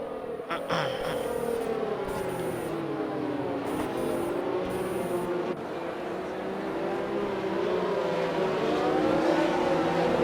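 A race car engine in a racing video game drones continuously, its pitch rising and falling as it revs, loud and close with no talking over it.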